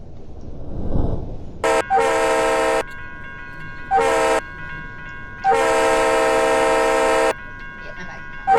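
Train horn at a railroad crossing, sounding in three long blasts with a rich multi-tone chord, loud and close, over the low rumble of the passing train.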